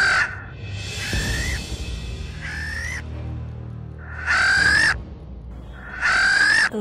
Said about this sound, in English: it's Diablo, Maleficent's crow